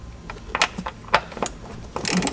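Quick ratcheting clicks in short bursts, close and fairly loud, from a ratchet with a 3/8 socket working strut bolts loose on a BMW M2 F87, with a louder metallic clatter at the end.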